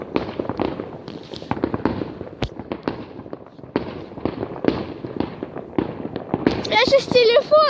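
New Year's Eve fireworks go off in rapid, irregular bursts of bangs and crackles, some near and loud, with a whistling rocket at the end, while people talk throughout.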